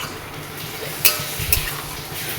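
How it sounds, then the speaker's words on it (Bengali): Spatula stirring poppy seed paste into potatoes in a pan over a low sizzle, with two distinct clinking scrapes against the metal close by. No one talks. "পোস্তটা দিয়ে দিলাম, এবার একটু নাড়িয়ে নাড়িয়ে"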